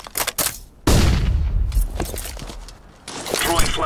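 Flashbang grenades popping off in CS:GO on the Mirage map, a sharp loud burst followed by a sustained ringing wash, with clicks and bursts of gunfire-like action around it; short in-game callouts mix in.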